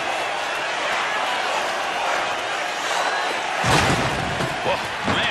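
A hard body check during an NHL ice hockey game, heard as a loud slam and thud against the boards with a crowd surge rising behind it, under commentary.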